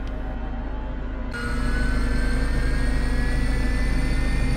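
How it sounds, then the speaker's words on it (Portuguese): HondaJet twin jet engines spool up in Microsoft Flight Simulator 2020 on Xbox Series X. A steady low rumble is joined partway through by a rising turbine whine that climbs and grows louder. No voices are heard. "Aqui eu vou ligar os motores, a gente vai tentar fazer o taxiamento e a decolagem"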